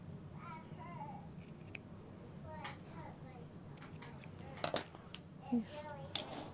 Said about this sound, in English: I'll just continue that cut line and make one little cut across the short side